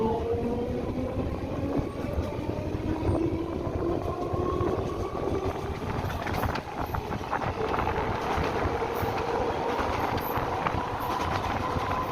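A passenger train from Digha runs along its tracks after leaving the station, producing a continuous rumble and rattle with rising and falling tonal whines throughout and no voices.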